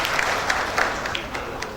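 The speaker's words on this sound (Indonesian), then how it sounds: "Bikin tepuk tangan untuk semua" An audience at a STIKES Intan Martapura graduation ceremony claps in a brief burst of dense, steady applause that fills the hall, heard from within the crowd.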